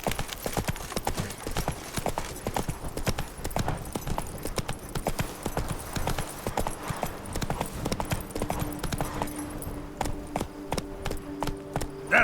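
Roach, Geralt's horse in The Witcher 3: Blood and Wine, gallops with a fast, continuous drum of hooves that stays close and prominent throughout, easing into a slower gait near the end.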